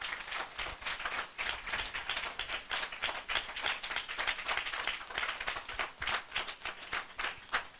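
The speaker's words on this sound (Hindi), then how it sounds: "हम जोरदार ताली से उनका स्वागत करें" A congregation at a spiritual gathering applauds in a lively, dense clatter of many hands, fairly quiet and continuous without talk.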